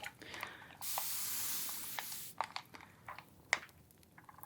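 A spray bottle gives a burst of hissing mist that keeps sputtering on after the squeeze, close and soft, followed by scattered small clicks and taps in a quiet room.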